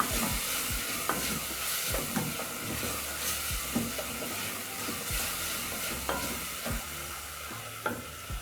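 Beef seasoning and tomatoes being stirred in a pot for Kenyan githeri, a soft continuous sizzle with regular scraping strokes of a spoon roughly once a second, close and alone.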